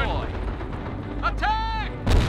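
Machine gun fire from an MG mounted on a vehicle roof in the Company of Heroes strategy game comes as short, sharp bursts amid battlefield rumble, with a brief voiced game callout between them.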